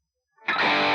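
After a moment of silence, a single heavily overdriven electric guitar chord is struck through a Gearbox dual overdrive pedal at full gain and rings out, thick and saturated.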